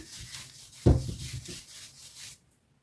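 Store-bought puff pastry dough being rolled out with a rolling pin on a floured surface, giving a soft, close rubbing sweep with a firmer thump near the start, then fading to quiet.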